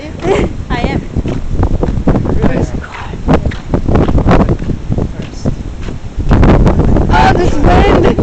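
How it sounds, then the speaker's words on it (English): Wind gusts across the microphone on an outdoor hillside nature walk, a rough, blustery roar under people talking nearby. "Oh, this wind. It's windy out here."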